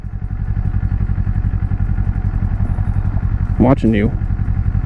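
A Kawasaki Eliminator cruiser motorcycle engine drones steadily and loudly while riding, a low rumbling thrum that runs throughout, with a brief spoken remark near the end.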